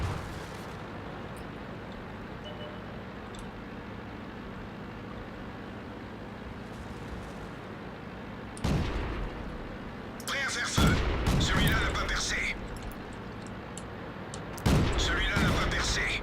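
Two AMX-38 tanks in World of Tanks trade cannon shots, with a few loud booming blasts and rumbling impacts near the end. Someone talks over a low engine drone before them.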